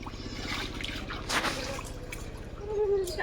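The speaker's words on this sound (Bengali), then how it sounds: "একটু জল ছুঁড়ে দাও তুমিও" Close splashing and dripping water during an outdoor bath under a banana tree, a few wet slaps and trickles with a voice briefly in the background.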